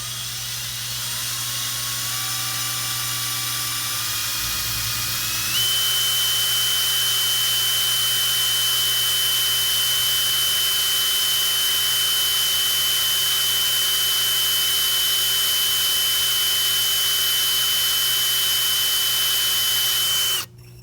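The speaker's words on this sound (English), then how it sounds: "Every time you drill metal, especially hard metal like steel, the speed should be nice and slow." A power drill runs slowly, boring a pilot hole in steel for a rear spool on a CB300f motorcycle, giving a steady whining motor tone that rises once in pitch early on and then holds, close and unbroken until it cuts off.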